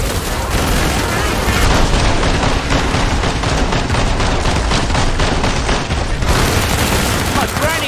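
Heavy gunfire in Killing Floor 2 on the Biotics Lab map, a loud, nonstop fusillade of rapid shots from several weapons overlapping for the whole stretch, dense and close, with a voice heard briefly under it.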